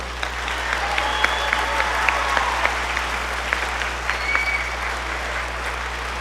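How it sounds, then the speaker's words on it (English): Audience applauding students at a spring school band concert, a steady wash of clapping with a few sharper claps standing out, moderately loud under a constant low hum, no voices. "give these students another round of your applause"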